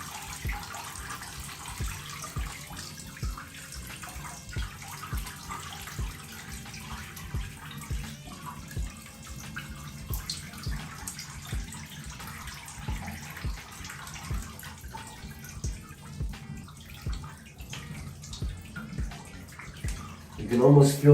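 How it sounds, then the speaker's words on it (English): Water runs and trickles through two pairs of soaking selvedge denim jeans in a bathtub, a steady close splashing flow with soft drips, while someone talks over it. "The water's kind of flowing through them, really getting all that gunk out."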